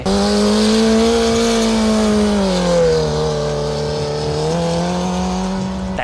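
A Nissan 350Z cut in half and rejoined as a twin-engine car accelerates loudly and steadily, its engine note rising and falling in pitch with gear changes, sustained and close throughout.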